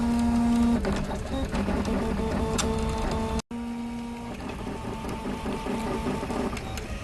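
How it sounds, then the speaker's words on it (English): Large home-built 3D printer with over 200 litres of print volume running a bridging layer across free space: whirring stepper-motor tones that shift pitch as the head moves, steady and close, with a brief cut midway and no speech. "The printer dropped one of the threads going across, so it's going to make a big mess here as it tries to bridge into free space"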